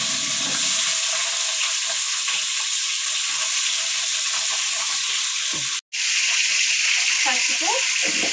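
Chicken washed twice with salt and turmeric, together with curry leaves, drops into a hot pan and sizzles loudly and steadily, with stirring scrapes, a brief cutout near the end, and a voice talking over it.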